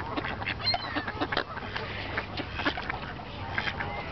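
Ducks quack in scattered bursts while seagulls mill around them at an outdoor feeding spot, with a busy wash of bird calls throughout and faint voices in the background.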